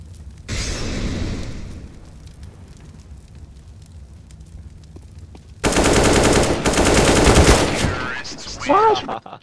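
Gunfire in Counter-Strike: Global Offensive: a short burst of automatic fire, a quieter lull, then a louder sustained volley of rapid shots, ending with a few ringing tones.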